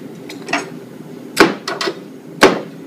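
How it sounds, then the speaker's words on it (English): A knife chops a peeled carrot on a cutting board during a cooking-class knife-skills lesson: a handful of sharp, separate wooden thunks, fairly close and irregularly spaced, with no talking. "we want to cut it into whatever, let's say cubes or julienne."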